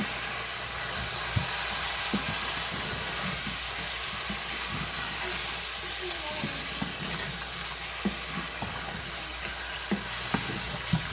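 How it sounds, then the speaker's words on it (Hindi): Chicken sizzles steadily in biryani masala in a pot, a continuous close frying hiss with scattered stirring scrapes and clinks throughout, no voices. "ऑलमोस्ट फ्राई हो गया हमारा चिकन"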